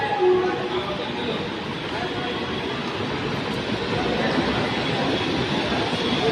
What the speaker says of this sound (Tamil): தண்ணீரை வாரி இறைத்தபடி சென்ற வந்தே பாரத் ரயில்